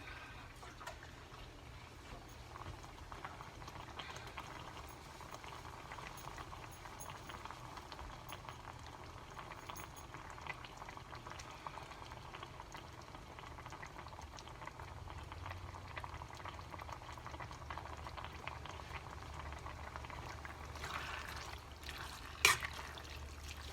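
Vegetarian chili simmering uncovered in a pot, a steady low bubbling with faint drips and pops running the whole time, one brief louder knock near the end.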